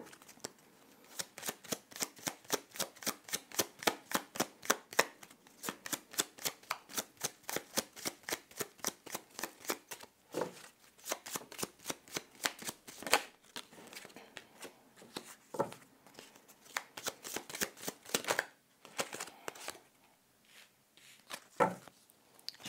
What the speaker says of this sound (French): Je vais aller tirer dans le paquet des ressources. On va aller tirer cinq cartes.